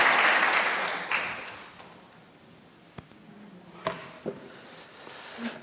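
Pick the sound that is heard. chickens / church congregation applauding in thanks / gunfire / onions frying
church congregation applauding in thanks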